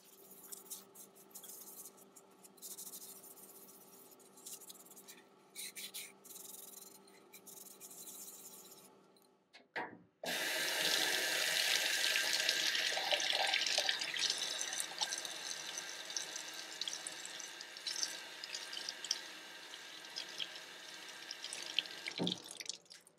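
Raku-fired pottery being scrubbed with Comet abrasive cleanser under running tap water: a quieter stretch of rubbing and trickling, a brief pause, then a louder steady gush of flowing water with scraping scrubs.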